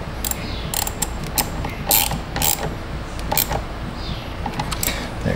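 A torque wrench tightens a bolt to spec on a Chrysler Pacifica, giving close, sharp ratcheting clicks in quick irregular bursts with brief pauses between strokes.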